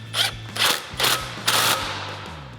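A socket wrench ratchets in four short bursts, clicking steadily up close and quiet, as 18 mm bolts on a steering stabilizer mount on a Ford F-250 are tightened.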